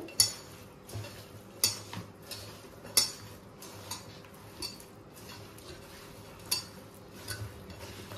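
Tamarind leaves, dry fish and spices are mixed by hand in a bowl, giving irregular close clinks and taps against the vessel, spaced roughly every half second to a second, with soft mixing sounds between.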